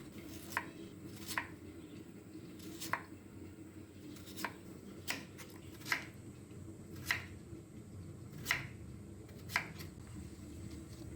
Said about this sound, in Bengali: এবারে এভাবে স্লাইস করে নিচ্ছি।